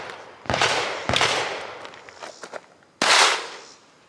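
Handgun shots ring out at a shooting range: three sharp reports at uneven intervals, each with a decaying echo, close and fairly loud, with small handling noises between them.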